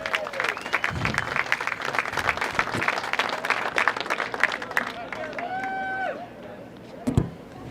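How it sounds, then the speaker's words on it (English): An outdoor crowd at a varsity high school baseball senior night claps and cheers for the East Henderson seniors, with uneven claps, a few whoops and murmured voices, easing off before a brief burst near the end. "Ladies and gentlemen, let's give these East Henderson seniors a big round of applause."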